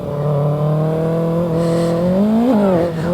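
A 2024 Kawasaki ZX-6R sport motorcycle's high-revving engine drones steadily close by on a track, its pitch holding then rising and dipping as it accelerates and shifts.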